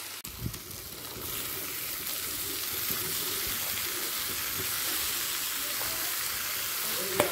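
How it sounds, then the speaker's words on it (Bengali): Chopped bottle gourd tipped into a sizzling spice mixture for a prawn and bottle gourd curry gives a steady, close frying hiss that lasts throughout, with a few soft clatters near the start and end. "এই সময় দিয়ে দেব কুচিয়ে রাখা লাউ"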